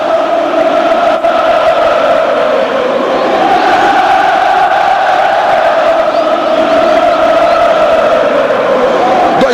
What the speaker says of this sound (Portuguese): E aí a torcida vem junto, escute só.